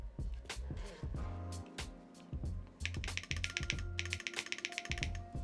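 Typing on a Savage 65 mechanical keyboard fitted with lubed Gateron switches and stabilizers, a close, quiet run of crisp clacks in uneven bursts, some faster flurries and a few deeper thocks, with no voices.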